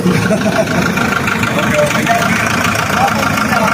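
Engine of a used farm hauling vehicle, newly bought, idles in a steady continuous rumble throughout, close and fairly loud, with people talking over it.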